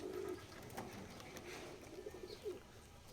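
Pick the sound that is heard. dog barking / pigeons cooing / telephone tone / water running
pigeons cooing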